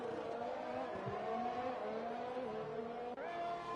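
Racing cars lapping a circuit in an F1-style session, a steady high engine whine with shifting pitch that holds loud throughout and is broken by a quick gear change near the end.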